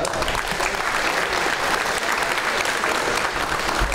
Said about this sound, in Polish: wielki oklask.